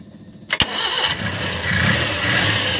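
A hard-starting Suzuki F6A 12-valve engine cranks with a short burst, then catches and settles into a steady, loud running idle, close by with no talk.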